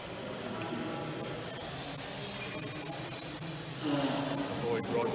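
An indoor model Typhoon jet aircraft flies circuits inside a sports hall, giving a steady whirring hum that swells louder toward the end as it passes nearer.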